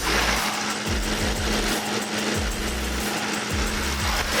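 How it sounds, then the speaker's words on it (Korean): Engine of a well-kept BMW 750Li long-wheelbase sedan idles with the hood open, a quiet, even hum with a faint steady whine and soft rhythmic low pulses, heard close and without voices. "제가 엔진 소음을 담기 위해 본네트를 한번 열어봤는데요"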